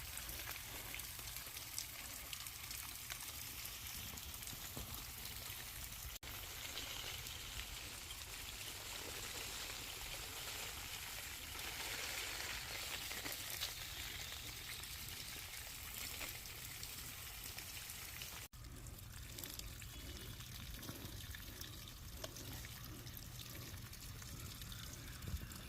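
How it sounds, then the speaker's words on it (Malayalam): Water pours steadily onto a young jackfruit plant in a garden, a continuous splashing trickle that runs for the whole stretch at an even level with no voices. "അപ്പം രണ്ടാമത്തെ നങ്കടാക്ക് പ്ലാവിനും വെള്ളമൊഴിക്കല്ലോ കേട്ടോ."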